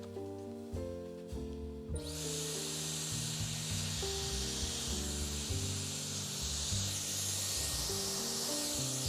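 A Dyson Airwrap hair styler switches on after about two seconds and blows a steady, loud rush of air through to the end, with faint background music running underneath throughout.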